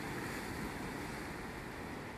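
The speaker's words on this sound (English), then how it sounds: "little bit of waves" Steady broadband wash of long sea waves rolling onto shore on the Ligurian coast at sunrise, continuous and fairly loud with a windy hiss over it.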